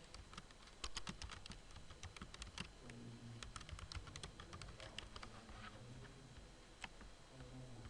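Text typed on a computer keyboard, a quick uneven patter of faint key clicks running throughout, close by and alone.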